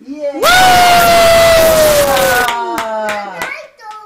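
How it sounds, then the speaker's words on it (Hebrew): At a child's party, people clap and cheer for a child, a loud sustained cry or yell over clapping hands, followed by a few scattered sharp claps and children's voices. "ועכשיו, מחיאות כפיים לרייסקר"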